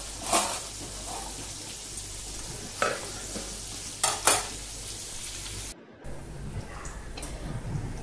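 A clay pot of sardine and raw mango curry is swirled by hand on the stove, giving soft sloshing and sizzling with a few brief scraping bursts. There is no talk.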